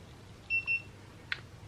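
A digital thermometer used in soap making beeps twice in quick succession, short clear electronic tones close by, followed by a couple of faint clicks in a quiet room.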